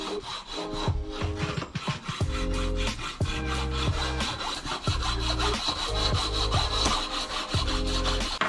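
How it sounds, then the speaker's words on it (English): Rhythmic back-and-forth abrasive rasping on a part from a supercharged 3.7 V6 Mustang, steady strokes repeating close up for several seconds without pause, like sandpaper worked over a hard surface. "I'm just going to keep sanding it down until it's decently"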